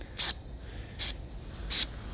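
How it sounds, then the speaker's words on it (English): Three short, evenly spaced bursts of an aerosol spray can hiss sharply and close by over a low background rumble, while working on car parts at a junkyard. "Spray some in."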